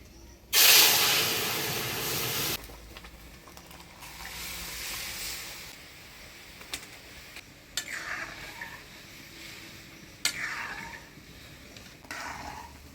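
Lentils tipped into a pan of hot mustard seed and dried red chilli tempering, giving a loud burst of sizzling and hissing that settles into a steady frying crackle, with a few pot-and-spoon clinks afterward.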